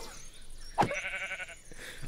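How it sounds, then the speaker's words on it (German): A single sheep in the video game Minecraft lets out a short, wavering bleat that stands clearly above a quiet, faintly textured background. "das ist einfach ein Schaf"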